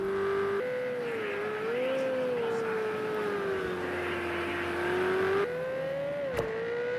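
A Ferrari GTE race car engine drones steadily throughout a racing video game at Bathurst, its pitch rising and dipping through gear changes, with a brief sharp click near the end.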